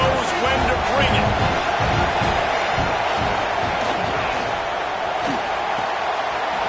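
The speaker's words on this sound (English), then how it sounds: "This crowd knows when to bring it." A football stadium crowd at a UMass at Florida State game roars loudly and continuously throughout, a dense wash of cheering and noise with announcer commentary underneath.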